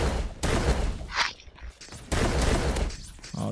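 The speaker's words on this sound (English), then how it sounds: "Yo, who's shooting me?" Gunfire in the Roblox game Da Hood, loud bursts of shots in two dense clusters separated by a brief quieter gap.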